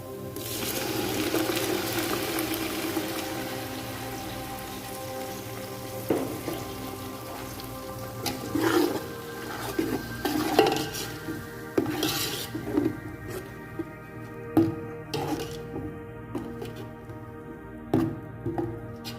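Tomato and chili paste added to browned onions in a pan to cook, with a scattered series of clinks and scrapes of a utensil against the pan over a soft background sizzle; no talk.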